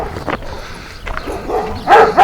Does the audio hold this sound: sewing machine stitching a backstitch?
no